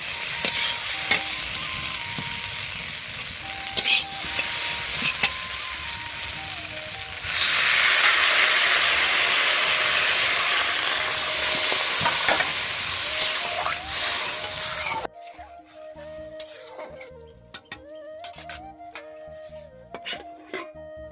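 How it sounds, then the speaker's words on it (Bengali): Vegetables and fried green plantains being stirred in a frying pan for shukto, a loud steady sizzle with scraping strokes, then a quieter stretch of sparse clinks and stirring near the end. "তারপরে এই যে একটু এখন ভালো করে নাড়াচাড়া করব।"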